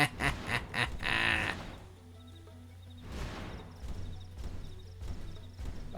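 Duck-like quacking from a bird in the video game Xenoblade Chronicles X, a burst of several quick calls up front and more scattered calls later over a steady low game hum and soft footstep-like clopping.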